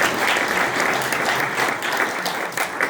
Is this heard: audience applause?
yes